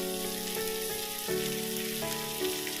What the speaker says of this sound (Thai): ผัดจนหอมเลยนะครับ